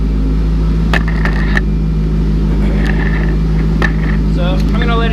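An LS2 V8 engine idling at about 700 RPM: a steady, loud low rumble with a constant hum, with faint clicks and ticks over it and no talking.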